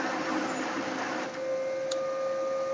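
A Brother HL-2250DN laser printer warming up, giving a steady whirring, hissy mechanical drone with a sustained tone and a faint click partway through, close and unaccompanied by speech.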